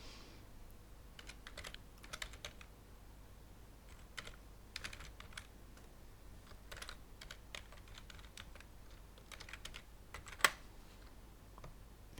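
Rapid, irregular clicking of fingers typing on a computer keyboard while entering a name and email, close and fairly quiet, with bursts of keystrokes separated by short pauses and no talk.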